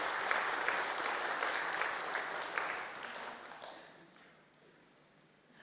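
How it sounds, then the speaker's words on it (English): Enthusiastic audience applause fills a welcome gathering, a dense sustained clapping that slowly thins and fades toward the end, with a brief louder burst at the close. "Clap for yourself."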